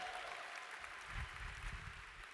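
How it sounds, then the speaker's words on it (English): Audience applause fills a large hall at a talk on financial growth, a steady dense wash of clapping at moderate, even loudness with no voices over it. "I appreciate the applause, but I don't really deserve it."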